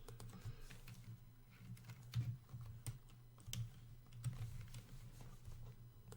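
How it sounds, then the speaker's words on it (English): Python code is typed on a computer keyboard in quick, uneven bursts of close clicking keystrokes with brief pauses, no voices. "I'll just type it out."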